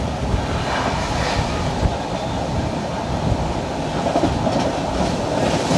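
Heard from aboard the Nizamuddin–Ernakulam Duronto Express on the Konkan Railway, the train rumbles steadily with a constant roar of wheels and rattling carriages, loud and close without pause.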